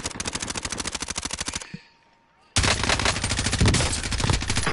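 Rapid automatic gunfire from Call of Duty: Warzone, loud and close, with a dense burst of shots, a brief near-silent pause, then another long sustained volley.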